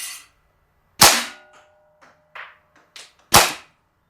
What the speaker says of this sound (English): let's see what kind of grouping I can get with the Piranha SL, and let's get to it